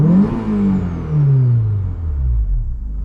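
A Honda S2000 with a 9,000 RPM redline and an aftermarket Greddy Spectrum Elite exhaust revs hard nearby, its engine note climbing and then falling back in loud, smooth sweeps.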